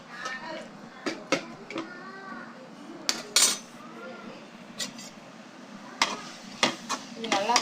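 Onions sautéing with turmeric in a pan over a medium flame for a green gram gravy. A spatula scrapes and clinks repeatedly against the pan over a soft sizzle, and a voice can be heard at moments.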